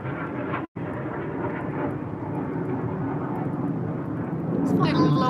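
Low-flying military planes passing over a residential neighborhood in Hawaii, a continuous broad roar that swells toward the end, with a person talking over it.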